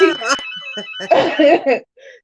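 A telephone rings in a home, its thin electronic tone sounding beneath close conversation between women.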